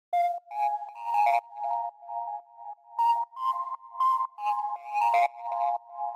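Smooth synth lead line from a lo-fi house track, playing a series of short, clean melodic notes in a steady rhythm around the mid register, bright and upfront with no voices.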